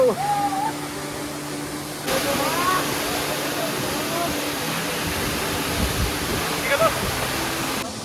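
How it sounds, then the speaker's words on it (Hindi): Sirki waterfall near Pasighat roars as a steady broad rush of falling water heard close by, with people talking excitedly over it and wind buffeting the microphone. "ये देखो वाटरफॉल ने मतलब वाटरफॉल से इतना हवा आता है"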